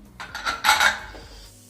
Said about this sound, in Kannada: ಇವಾಗ ನಾನು ಮುಚ್ಚಳನ ಮುಚ್ಚಿ 3 ವಿಷಲ್ ತಗೋತೀನಿ.